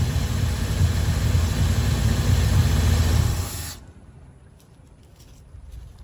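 A 1969 Dodge 3/4 ton truck engine running with a spurting fuel pump: a loud, rough, steady rumble with hissing spray that cuts off abruptly partway through, leaving quieter faint clicks and ticks.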